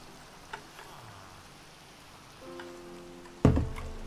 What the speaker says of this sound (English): let me sleep to get rid of this rain